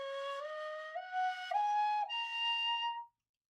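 Shakuhachi flute playing a rising scale in the doyo mode, several clear breathy notes stepping upward one after another over about three seconds, fairly soft and alone.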